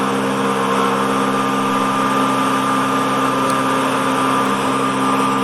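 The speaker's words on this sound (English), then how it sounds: "enjoy the sweet sound of that Lakeland engine turn along right in front of you" Fieseler Storch aircraft engine in the FlightGear flight simulator, a steady, loud, unbroken drone with a constant tone and no talking.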